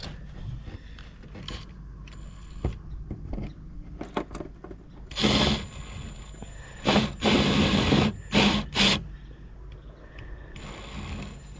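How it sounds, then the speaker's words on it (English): A power drill whirs in several short bursts, drilling a 5/8-inch hole straight down, loud and close, separated by quieter stretches of faint handling noise. "Drill it straight down to 5/8 of an inch"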